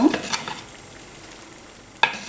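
Broth spooned over vegetables in a veal tajine with potatoes and green olives gives a short, soft sizzle and stir, ending in a single sharp clink close by.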